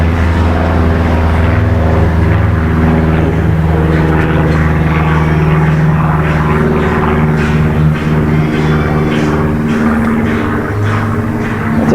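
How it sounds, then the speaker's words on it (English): A propeller airplane drones overhead with a steady, throaty engine hum that slowly shifts as it passes, loud and continuous from a porch with no talking. "Airplane flying over."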